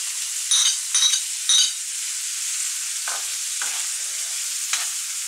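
Spices and garlic hitting hot oil in a pan of sautéing zucchini, a loud steady sizzle with a few sharp bursts of stirring scrapes early on, no talk.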